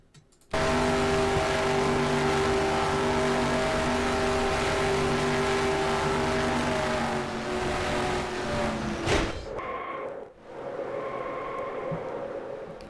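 A loud, steady race car engine in NASCAR Racing 2003 drones at high revs with a strong tonal whine, then cuts out with a crash-like thud before revving resumes more unevenly.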